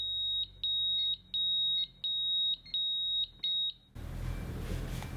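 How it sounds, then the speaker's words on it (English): Steady repeated electronic beeps from a Pyronix Enforcer wireless alarm panel's entry countdown, evenly spaced and fairly loud, about eight of them, then abruptly cut off into a burst of broadband noise. "On your return to the property, you get a countdown timer when entering."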